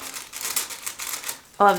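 Steady crisp crinkling of a thin glassine bag being handled up close, rustling continuously before a voice briefly begins at the end.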